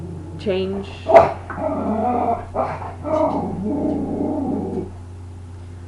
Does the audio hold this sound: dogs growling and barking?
yes